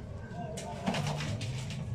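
A diamond dove coos softly, a low drawn-out call that rises out of a steady hiss of background noise and lasts under a second.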